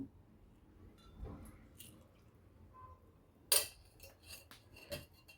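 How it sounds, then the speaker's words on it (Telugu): A pan set down on a stove and a spoonful of oil added, heard as a few faint, sharp metallic clinks and taps scattered over near silence. "బాండీ పెట్టేసి ఆయిల్ వేస్తున్నానండి"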